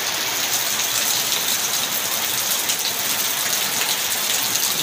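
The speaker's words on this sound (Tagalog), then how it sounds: "Ang lakas ng ulan." Heavy rain pours down steadily before dawn outside a house, a dense, loud hiss of drops drumming on surfaces with no break.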